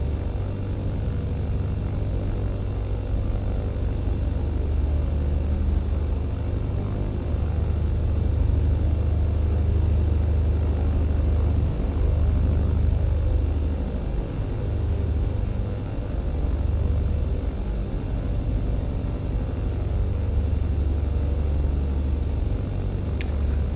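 A propeller airplane engine in Microsoft Flight Simulator 2020 drones steadily and loudly during a crosswind takeoff, a continuous throbbing roar with no voices over it.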